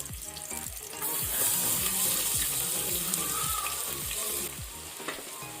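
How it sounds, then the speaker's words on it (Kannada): Onions sizzle and fry in hot coconut oil for a mutton masala, a loud steady crackle that swells once they hit the pan, with faint stirring scrapes underneath. "ಈಗ ನಾವು ಇದಕ್ಕೆ ಈರುಳ್ಳಿ ಹಾಕೊಳ್ಳುವ."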